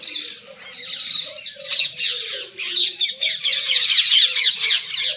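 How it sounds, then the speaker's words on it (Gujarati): Many birds, parrots among them, squawk and call loudly around a village home in Banaskantha, Gujarat, a dense overlapping chorus of harsh shrieks that carries on steadily throughout. "અહીંયા મિત્રો ખૂબ બધા પક્ષી બોલે, પોપટ ને એવું બધું, એટલે અવાજ બહુ વધારે આવતો છે"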